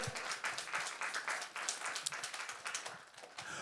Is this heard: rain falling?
no